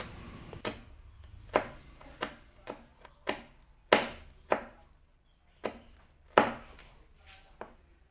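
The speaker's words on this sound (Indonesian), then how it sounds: "2 biji cabai merah keriting diiris serong." Knife slicing curly red chilies diagonally on a cutting board, with about a dozen distinct crisp chops at an uneven pace, close and clear with no voices.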